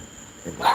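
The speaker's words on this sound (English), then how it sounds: "I want to get this dog." A single short dog bark or yelp rises out of a quiet background near the end, close by and brief.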